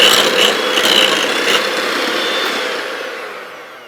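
An electric hand mixer whirs steadily as milk is beaten into a cake batter for German milk slices, a loud continuous motor drone that gradually eases and fades over a few seconds with no talking.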